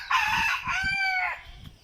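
A rooster crows once, close and loud, among chickens perched in a tree, with a long drawn-out call that trails off, then quiet.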